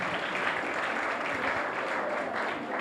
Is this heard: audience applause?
yes